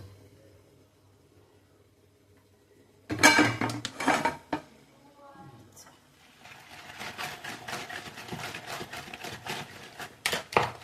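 A metal pot greased with ghee for making kaipola is set down and handled: after near-silence, sharp close clanks and knocks burst out, then lighter rattling and scraping continue.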